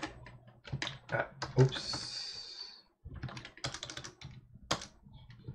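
Computer keyboard typing in a home setup while working on local virtual machines, brisk bursts of clicking keystrokes close by, broken by short pauses, with someone talking over it.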